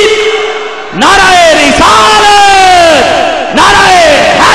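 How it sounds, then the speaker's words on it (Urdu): A large crowd roars slogan responses in unison at a religious gathering in Rawalpindi, loud sustained chanted shouts with two or three rising bursts separated by brief dips. "آپ نے محبت اور ذوق کے ساتھ یہ نعرے کا جواب دینا ہے"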